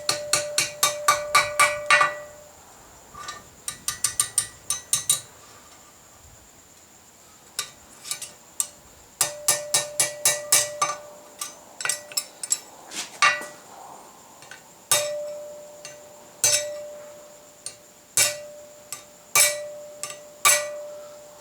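A wooden mallet gently taps a forged medieval-style hairpin in quick clustered runs of light, ringing metallic clinks, bursts of taps separated by short pauses.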